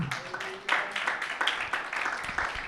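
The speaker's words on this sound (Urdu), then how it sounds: "خداوند یسوع مسیح کے لیے زوردار تالی بجائیں." A church congregation clapping loudly together during a Sunday service, a dense continuous burst of applause lasting a few seconds.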